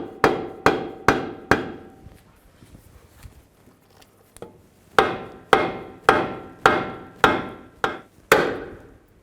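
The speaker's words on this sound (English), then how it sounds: "Just give it a couple bonks underneath here." A hammer strikes under the steering knuckle of a 2011-2015 Chevy Cruze to line up the ball joint. Two series of sharp metallic bonks are heard close up: four quick hits, a pause with faint handling noise, then about eight more.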